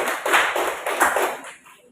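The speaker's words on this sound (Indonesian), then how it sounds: "Ya, tepuk tangan untuk kelompok 1." A classroom group of students claps for the first group's presentation, a short burst of several loud, close claps in uneven rhythm that fades out over about two seconds, with no talk.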